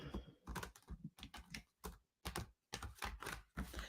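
Large tarot cards being shuffled by hand: a quiet series of short papery riffles and slaps in uneven bursts with brief pauses between them, no voices.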